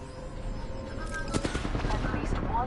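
R99 submachine gun fire in a first-person shooter: dense, rapid bursts of automatic fire rattle continuously under game noise, with a couple of sharper cracks near the middle while players talk over the top.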